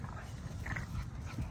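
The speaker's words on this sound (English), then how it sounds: "So letting the dogs play." Dogs play in a yard, giving brief whimpering and yipping vocal sounds close by against steady outdoor background noise.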